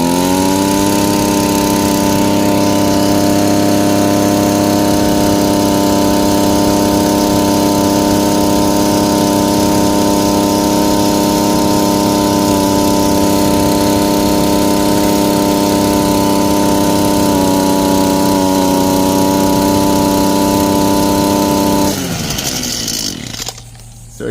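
An Echo SRM-230 weedeater's two-stroke engine holds a loud, steady high buzz at full throttle for a long stretch, then drops off abruptly near the end; close up with no talking.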